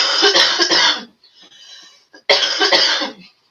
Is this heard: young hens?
no